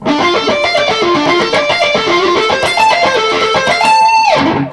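Distorted electric guitar plays fast arpeggios with every note separately picked, a steady run of bright, ringing notes that ends on a sustained chord.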